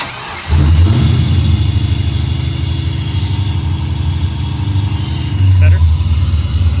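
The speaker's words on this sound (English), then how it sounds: "Make sure it's not in gear and crank her up." An SN95 Ford Mustang race car engine cranks and fires up, settling into a loud, steady, rumbling idle up close, with a brief throttle blip near the end.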